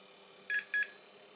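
Two short electronic beeps in quick succession over a faint steady hum, with no talking, from a Dell 745 USFF PC starting up with its hard drive missing.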